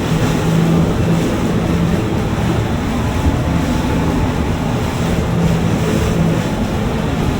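A SeaVee 340B boat runs across the Sea of Abaco in the Bahamas on a rough crossing to Treasure Cay. Loud, steady water rush and wind buffeting continue throughout, with a low engine drone underneath and no talking.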